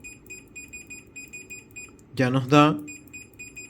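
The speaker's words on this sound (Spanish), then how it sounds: "un pitido instantáneo" A UNI-T UT61E+ multimeter beeps on continuity test, giving a series of short, moderate, even-pitched beeps in quick rhythm. Someone speaks Spanish briefly over them.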